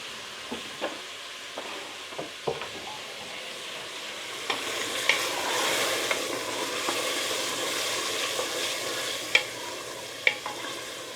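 Tomatoes and asafoetida cooking in a pan for pav bhaji, with a steady frying hiss that swells midway. Scattered spoon taps and scrapes on the pan come near and fairly quiet.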